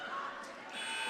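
The end-of-game buzzer sounds at a high school basketball game in a gym, a sustained electronic buzzing tone over faint crowd noise.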